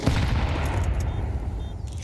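Rapid gunfire from a Counter-Strike match at the BLAST Austin Major 2025, a loud dense burst of shots that fades out over about two seconds.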